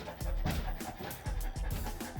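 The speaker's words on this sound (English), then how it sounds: "my dog will bite you!" A police K9 dog with the Holland Police K9 unit barks and pants close by in a rapid run of loud, repeated bursts, with no speech over it.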